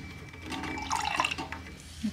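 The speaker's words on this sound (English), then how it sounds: "I add some water in it too, so it's not super thick." Water pours steadily into a cup of milk for an iced matcha latte, a short continuous splashing trickle close by, with no talk.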